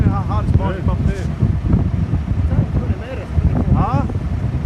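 Strong wind gusts during a large tree removal roar steadily across the microphone, mixed under close conversation from people on the ground.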